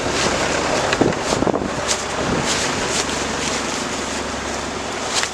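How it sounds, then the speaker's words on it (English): Continuous blustery, cold wind roars and buffets the microphone throughout, with occasional gusts and faint watery movement beneath, no voices. "Cold and windy."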